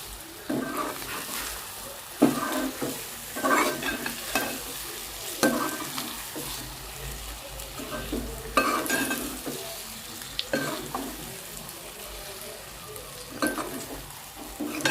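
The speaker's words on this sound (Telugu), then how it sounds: "ఇవన్నీ ఇలా వేసేసుకున్న తర్వాత ఒకసారి మిక్స్ చేసుకున్నామండి" Spice powder mix for masala brinjal, made with roasted peanuts and oil, gets stirred in a pan over heat, with repeated rhythmic scraping strokes over a steady sizzle, close and fairly loud.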